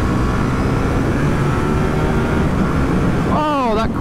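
KTM Duke 790 motorcycle engine under way on a ride, a steady loud roar mixed with rushing wind, with a few quick rising and falling engine sweeps near the end.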